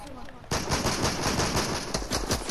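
Rapid automatic gunfire in Fortnite bursts in after a brief quieter moment, a loud sustained rattle of shots with voices faintly beneath.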